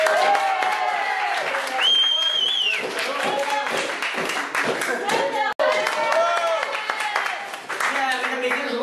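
A studio audience at a French television show claps and applauds steadily and fairly close, with a host's voice speaking over the clapping throughout.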